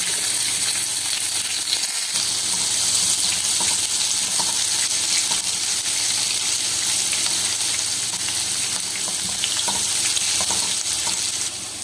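Onions frying in a pot for a village-style potato and pea curry, a steady loud sizzle and crackle running the whole time with faint stirring underneath.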